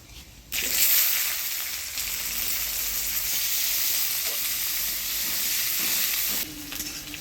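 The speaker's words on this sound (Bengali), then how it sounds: "পেঁয়াজটা ফোড়নের তেলে দিয়ে নাড়াচাড়া করে নিলাম" Chopped onion frying in hot tempering oil with black cumin, a steady loud sizzle and hiss kept up with stirring, for a Bengali fish and vegetable curry.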